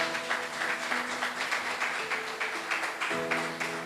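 A church congregation applauds in a dense, steady burst of many hands clapping, with a sustained tone lingering underneath.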